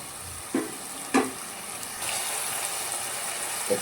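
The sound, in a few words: tomato gojju ingredients frying in oil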